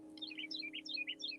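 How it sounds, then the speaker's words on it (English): Several quick, high bird chirps and tweets repeat in bursts outside a window, close and clear over a steady low indoor hum. "You hear the bird?"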